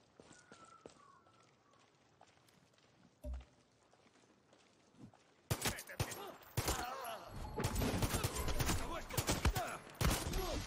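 Rapid gunfire bursts in the video game Far Cry 6, loud and dense in the second half after quieter ambient movement and a single thump.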